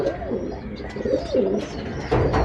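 Big pigeons coo in a loft during a pigeon-keeping visit in India, several rolling, throaty coos overlapping close by, with a louder burst of cooing near the end.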